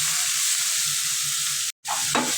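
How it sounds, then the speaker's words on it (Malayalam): Chopped tomatoes sautéed in a pan for Thrissur-style Kerala beef fry give a steady, loud, close sizzle with a bubbling low rumble, briefly cut off and then resuming with a spatula scrape. "തക്കാളി കൂടി ചേർത്ത് നന്നായിട്ട് വഴറ്റിയെടുക്കുക."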